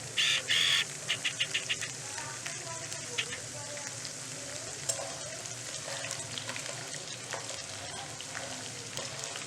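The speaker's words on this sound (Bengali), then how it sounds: "তেলে এটা একটু ভালো মতো ফ্রাই করে নেবো" Chopped ginger and garlic with garam masala fry in oil for a chicken curry. A few sharp clicks open onto a soft, steady sizzle with occasional light stirring.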